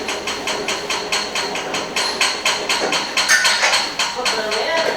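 A manual sawmill winch is wound down, giving a steady run of rapid metallic ratcheting clicks, close and fairly loud, with faint talk underneath.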